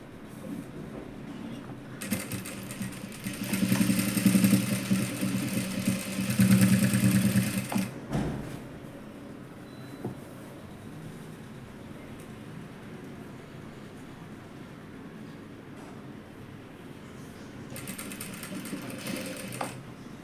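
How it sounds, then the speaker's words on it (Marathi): A sewing machine stitches a dress from leftover cloth in two clear bursts of rapid, steady mechanical whirring, then falls quiet before a shorter run starts again near the end; close and moderately loud. "असं करून शिलाई मारून घ्यायची."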